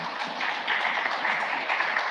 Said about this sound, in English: can we give a round of applause to our amazing panelists?